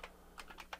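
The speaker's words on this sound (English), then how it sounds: "you can type the whole thing in" A brief, faint burst of a few quick key presses on a computer keyboard while searching for Ubuntu's Software Updater inside VirtualBox, with no voice.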